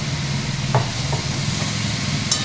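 Vegetables sautéing in a pan for a vegetarian sabji with tomato, a steady close sizzle with a few light scraping stirs over a low hum, no talk.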